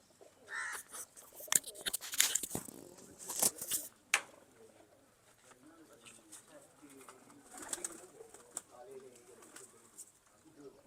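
Pigeons coo in a loft during a pigeon-keeping session, soft low calls repeating through the clip amid clattery rustling and wing flaps, with faint voices nearby.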